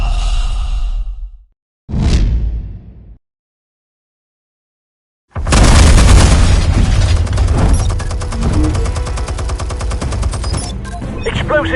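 Explosives detonating in a Batman video game: after a short whoosh and a silent pause, a loud blast erupts and rolls on into a long crackling, rumbling tail.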